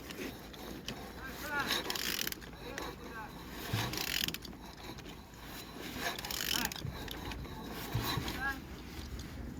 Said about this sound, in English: Turning the engine